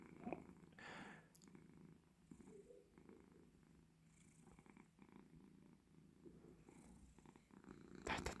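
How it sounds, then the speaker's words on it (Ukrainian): A cat purring close by, a low steady rumbling that pulses softly with each breath, with faint rustling around it. "Але чуєте, як мурчить?"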